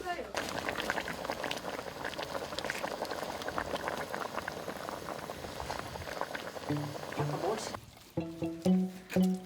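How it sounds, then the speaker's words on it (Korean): Spanish mackerel pieces, bones included, boil in a pot of soup, giving a steady close bubbling and simmering that runs throughout. Voices talk over it, and a few clinks sound near the end. "먼저 삼치를 뼈까지 함께 넣고 끓입니다"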